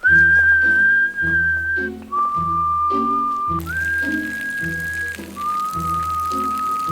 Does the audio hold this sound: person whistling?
yes